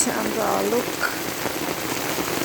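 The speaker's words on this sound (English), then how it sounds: "look at the rain, how beautiful it is" Rain falls steadily near a college campus, a continuous hiss of drops on surfaces, with a brief voice heard at the start.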